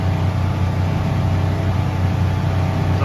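A Polaris engine runs at high revs, a loud, dense, steady roar that holds without a break through the short stretch, with no talk over it.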